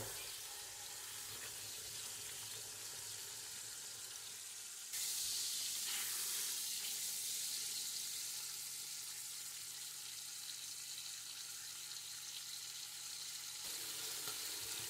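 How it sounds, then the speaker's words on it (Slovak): Pork shoulder sears in a pot for a Bratislava-style dish, giving a loud, steady, close-up sizzle and hiss that grows brighter partway through and continues unbroken. "Bravčové pliecko musíte nechať zatiahnuť z každej strany."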